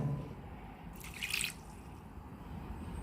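Lukewarm water trickles and drips into a bowl of bread dough ingredients, a brief soft pour in the middle of a quiet stretch.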